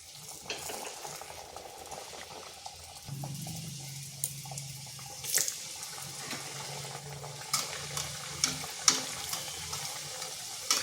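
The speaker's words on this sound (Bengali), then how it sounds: "এখানে আপনারা একসাথে অনেকগুলো দিতে পারেন, কিন্তু আমার কড়াটা ছোট, তাই আমি দুটো করেই ভেজে নিচ্ছি।" Snack pieces frying two at a time in hot oil in a small pan, a quiet steady sizzle with clinks and stirring scrapes, no talk.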